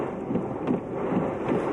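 Heavy Typhoon Nesat (Pedring) rain and wind roaring steadily, a dense close wash of downpour with gusty swells and no voices.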